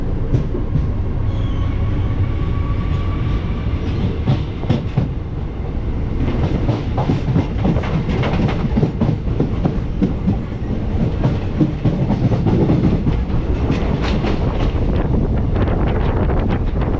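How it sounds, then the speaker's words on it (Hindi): The Himsagar Express pulling out of a station in the rain, a loud, steady rumble of rolling wheels with rhythmic clatter and wind buffeting close to the microphone, no talking. "ट्रेन निकल भी गई है क्योंकि यहाँ पे ज़्यादा देर रुकती नहीं है ट्रेन।"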